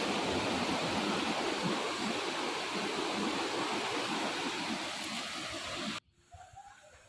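Waterfall at a temple site in Tirukkurungudi pours in a dense, loud, steady roar for about six seconds, then cuts off abruptly to quieter ambience.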